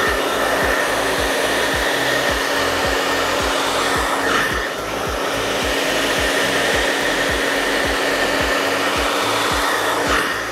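A hair dryer runs steadily at close range, a loud constant whoosh and motor hum, while hair is blow-dried with a paddle brush, accompanied by a regular rhythmic ticking pulse.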